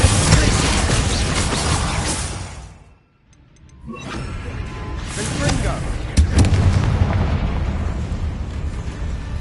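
A Bombarda blasting spell explodes in Hogwarts Legacy: a loud booming blast and rumbling debris fill the opening seconds, then a brief near-silent gap, then further heavy explosive noise, with a voice speaking over parts of it.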